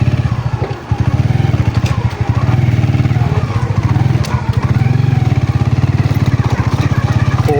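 A motorcycle tricycle engine idles in neutral and runs steadily up close, a low chugging rumble with rapid rhythmic pulses throughout.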